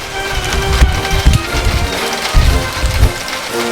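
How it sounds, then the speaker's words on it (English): Rain falls outdoors beside a Trek road bike under repair, a loud steady patter of drops with occasional heavier bursts and some wind buffeting the microphone. "Just started raining."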